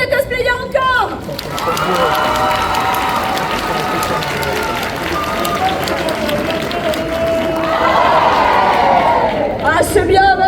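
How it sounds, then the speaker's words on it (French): A festival crowd at a cosplay parade breaks into sustained applause and cheering, a dense wash of clapping that swells toward the end, with a voice over a loudspeaker speaking at the start and finish. "faites plein d'applaudissements pour tous les cosplayers encore"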